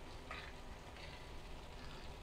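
Garlic sautéing in a pan for ginataang tulingan, a fish dish, makes a faint, steady hiss of sizzling oil with soft crackles and no pauses.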